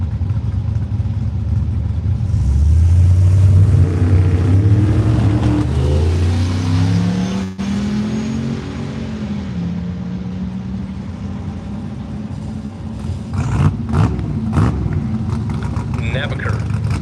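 A Chevrolet Silverado truck pulls hard down a drag strip at a drag-and-drive event, its engine rising in pitch through the gears before fading. A track announcer talks over it.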